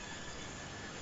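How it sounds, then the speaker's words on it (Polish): A train arrives in the video game Farming Simulator 2015 with a faint, steady rolling rumble and hiss that holds level throughout. "Nie przegra się, dopóki pociąg nie przyjedzie."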